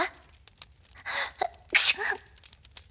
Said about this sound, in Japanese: くしゃみをしてるじゃないか。